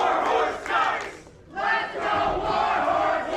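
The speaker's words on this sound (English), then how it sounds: "Much of the Delmore Hall crowd chanting for Warhorse" Wrestling crowd in Delmore Hall chanting for Warhorse in rhythmic bursts, loud and close, with a brief dip before the chant resumes.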